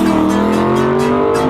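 The V8 of a 2018 Aston Martin V8 Vantage S AMR holds a loud, close, steady growl, its deep tone rising slightly as the engine pulls, with no voices over it.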